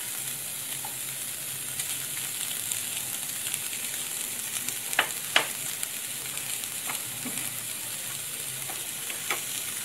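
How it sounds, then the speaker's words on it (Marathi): A grated coconut and jaggery mixture sautéing in a pan as filling for steamed modak: a steady frying hiss runs throughout with a few soft spatula scrapes, close and even, with no talking. "हे मिश्रण चांगलं परतून घ्यायचंय"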